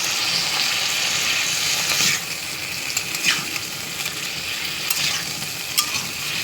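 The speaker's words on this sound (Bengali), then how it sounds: "পেঁয়াজ বাটা দিয়ে একটু কষে নিলাম" Onion paste fries in a pan under stirring, a loud, dense, close sizzle that eases slightly after a couple of seconds, broken by occasional scrapes and clicks from the spoon, with nobody speaking.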